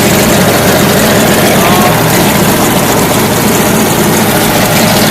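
A Hemi-powered Katolight generator engine runs loud and close with a continuous dense roar and steady low rumble throughout, no pauses or changes in pace.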